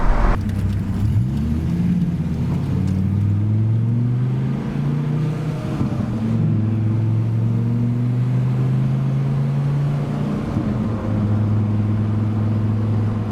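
A Dodge Viper engine drones steadily at close range, its pitch climbing and settling through several rev cycles around 3,000 RPM as it pulls through the gears.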